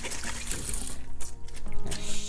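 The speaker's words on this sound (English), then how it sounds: "So I just rinse it one more time." Running water splashes steadily over a whole head of cabbage held under a kitchen tap, a continuous close, moderately loud rinse with uneven spatters and gurgles as the leaves break up the stream.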